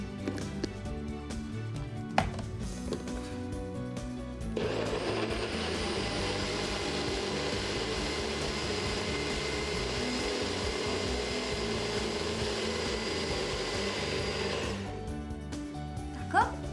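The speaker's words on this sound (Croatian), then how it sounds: "I sad ću to sve lijepo izmiksati." A Nutribullet blender whirs steadily while mixing a milk drink with cinnamon, a loud continuous motor drone of about ten seconds that starts abruptly and cuts off, with quieter clatter before and after.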